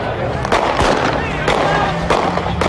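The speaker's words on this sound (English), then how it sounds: "Gunshots rang out and police fired tear gas to push back angry crowds" Sharp gunshot cracks during the Ferguson riots, several scattered bangs over a loud street crowd with voices throughout.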